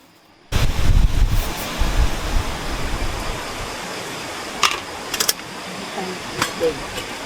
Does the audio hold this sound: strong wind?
yes